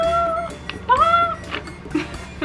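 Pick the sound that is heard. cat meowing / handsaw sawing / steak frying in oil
cat meowing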